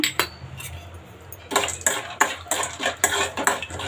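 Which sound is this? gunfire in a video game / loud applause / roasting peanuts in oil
roasting peanuts in oil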